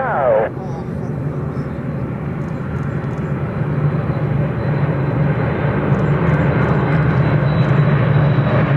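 A yellow lead aircraft landing and braking at an airshow, heard as a loud, steady engine and airframe roar that holds throughout with no pauses.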